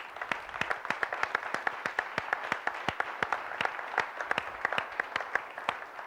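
An audience at a tech meetup gives a small-room round of applause for a panel, sparse, distinct hand claps in an irregular patter, moderately quiet and without talk.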